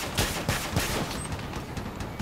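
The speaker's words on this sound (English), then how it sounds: "I bet they won't see these rockets coming." Rocket launchers firing in a video game, a rapid series of sharp blasts and bursts spread across the moment, loud and close with no talk over them.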